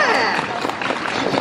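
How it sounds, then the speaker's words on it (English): A crowd of children and adults clapping during a live Stitch stage show, a busy, continuous patter of hands fairly close and loud with some voices blended in. "Clap louder."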